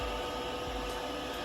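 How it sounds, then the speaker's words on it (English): A Pentair pool pump motor runs after a capacitor replacement, giving a steady, loud broadband whir and hum with no change in pitch. "turn the breaker on and the pool pump on"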